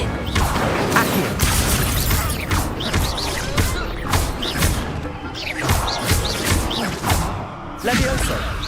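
Spell effects from Hogwarts Legacy combat: repeated whooshing casts and crashing, thudding impacts in a dense, continuous battle, loud and busy throughout with voices mixed in.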